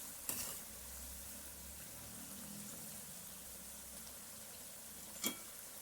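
Cauliflower pakoda deep frying in oil, a soft steady sizzle and bubbling with two brief sharp clinks, one near the start and one near the end.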